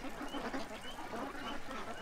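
Meat ducks being raised on a small farm quack in a dense, continuous chorus at moderate distance, with overlapping calls running throughout and no clear pauses.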